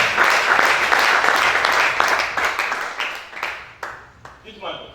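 An audience applauding at a preaching event, dense clapping close and loud at first, then thinning into scattered claps that fade out.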